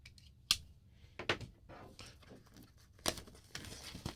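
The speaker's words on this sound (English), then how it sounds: "So let's open this up, cut the seal here." Seal on a Nubia Red Magic 5S smartphone box being cut, a series of sharp slicing snicks and plastic crinkles in short irregular bursts, close and fairly quiet with no talk.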